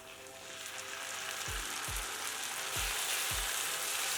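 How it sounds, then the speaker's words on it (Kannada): Tomato paste fries on a low flame with onions for a kofta curry, a broad, rising sizzle that grows louder partway through, punctuated by four soft low thumps, heard up close with no one speaking. "ಲೋ ಫ್ಲೇಮಲ್ಲಿ ಟೊಮೆಟೊ ಪೇಸ್ಟ್ ಹಾಕೊಳ್ಳೋಣ"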